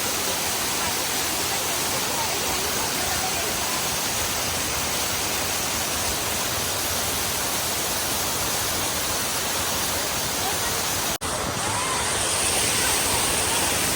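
Waterfall near Dapoli in Ratnagiri, a dense, constant rush of falling water close by, loud and unbroken throughout with one brief dip.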